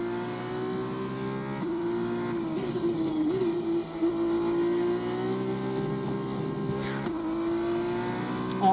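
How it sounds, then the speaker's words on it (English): A V8 race car engine in a racing video game drones steadily at high revs, with small shifts in pitch as it lifts and accelerates, loud and continuous with no voices. "A nice solid V8 engine"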